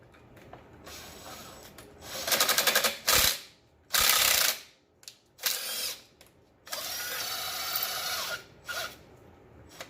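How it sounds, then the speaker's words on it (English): A ratchet tightens the alternator bolt on a 1998 JDM Subaru Legacy 2.0L wagon, with several close, loud bursts of rapid clicking separated by short pauses and quieter metallic handling. "Now we're gonna tighten this bolt, and we'll bring this alternator up."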